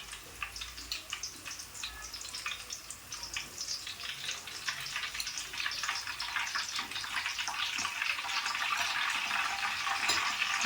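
Salt water hits hot oil in a pan of frying potato chips, giving a steady bright sizzle and crackle that grows gradually louder and denser, with no voices.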